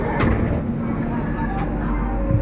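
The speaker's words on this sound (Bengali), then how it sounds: "এখন তো সবে ট্রেন ছেড়েছে" Passenger train rolling just after departure from Howrah, heard from inside an executive economy coach: a steady low rumble with faint clatter, continuous and moderately loud throughout.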